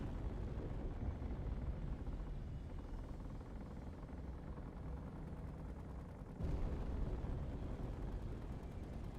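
Space Engineers turret gunfire and explosions: a dense, rumbling wash of rapid shots and booms runs throughout, growing louder in the final few seconds.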